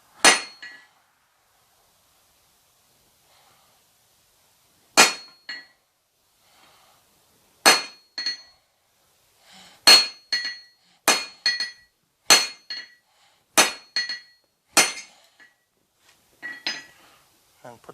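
Hammer striking hot steel at a blacksmith's anvil to mark it, sharp ringing clinks: a few isolated blows, then a quicker run of strikes with bright metallic ring and quiet gaps between.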